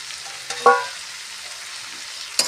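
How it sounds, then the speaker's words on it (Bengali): Green peas and mixed vegetables stirred and frying with spices in a pan for a vegetable dal, a steady low sizzle with a couple of brief scraping stirs, fairly faint and with no talking. "ভালো করে সবজিগুলো মিশিয়ে নিই"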